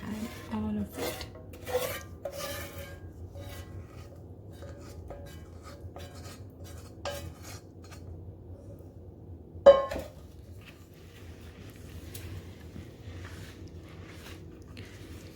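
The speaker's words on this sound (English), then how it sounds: "We're just going to give it a good stir." Brownie batter stirred in a mixing bowl gives slow, rasping scrapes and occasional light knocks against the bowl, spread irregularly and fairly quiet.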